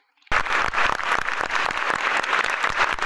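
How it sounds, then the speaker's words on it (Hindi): Applause for the winning runner at a school gurukul sports day race bursts in after a moment of quiet and continues steadily, a dense, close crowd of hands clapping loudly throughout. "ताली हो जाए।"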